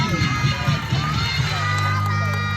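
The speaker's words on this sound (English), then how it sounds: "how about a big round of applause for Early and Sophie?" A sea lion show audience at Ocean Adventure, Subic Bay, cheers and shouts together in a steady, dense crowd roar that holds loud throughout, with children's voices mixed in.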